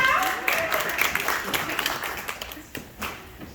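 Guests at a 2021 nursing school graduation ceremony at Roxborough Memorial clap, a moderate, fairly distant patter of applause that fades unevenly over a few seconds while a voice is faintly heard.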